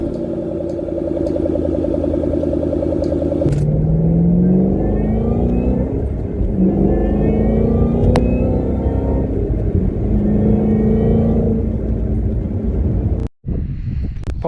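A Kona blue 2012 Ford Mustang Shelby GT500 with stripes, engine running steadily with a low rumble that rises in pitch as it revs and accelerates, close by, with wind noise over it.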